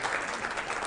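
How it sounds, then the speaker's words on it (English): Brief burst of audience applause at a summit presentation, a dense even wash of many hands clapping, moderately faint and steady throughout. "Can I get applause for greatness happens?"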